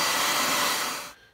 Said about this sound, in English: a hairdryer is going to speed that up